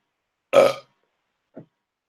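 A single loud, close burp lasting about a quarter second, followed a second later by a much fainter, shorter second burp, with silence around both.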